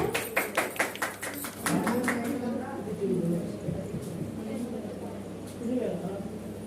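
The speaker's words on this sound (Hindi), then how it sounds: "डॉली गुप्ता जी, जोरदार तालियां" Applause at a Teej function for the second-place winner, Dolly Gupta: a burst of crisp rhythmic claps at the start that fades into crowd murmur and talk.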